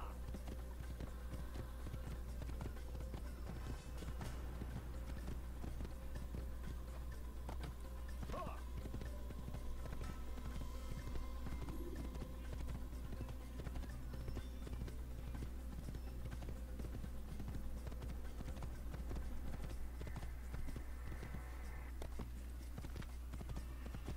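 A horse gallops in Assassin's Creed with a steady rapid clip-clop of hooves, continuous and fairly loud, under a dense bed of game ambience, with a brief neigh partway through.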